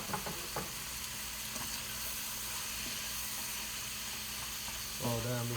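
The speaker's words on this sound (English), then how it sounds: "Throw in the pasta. We'll throw in the tomatoes." Pasta and tomatoes sizzle loudly and steadily in a hot pan, with a few clattering stirs at the start and a brief louder burst near the end.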